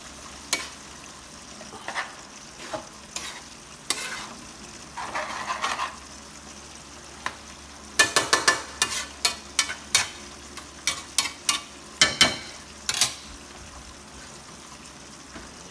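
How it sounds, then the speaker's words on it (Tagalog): A spoon stirs and scrapes around a boiling pot of sautéed banana blossom in scattered clinks and rustles, with a faint sizzle underneath and no one speaking. "Pag kumukulo, haluin natin."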